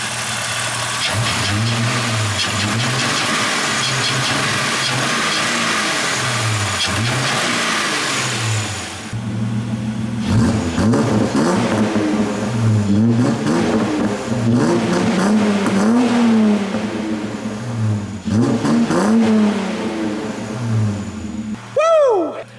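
A manual VS Commodore V6 revs on the road, engine rising and falling through repeated pulls and gear changes, loud and close, with a quieter steady stretch before a sharp drop and renewed acceleration.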